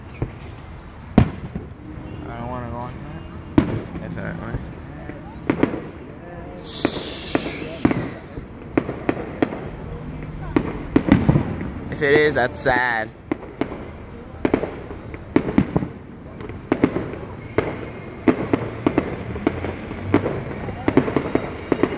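Fireworks burst repeatedly on the night of July 3, sharp pops and crackles scattered throughout, with several whistling rockets rising before bangs, while people talk nearby.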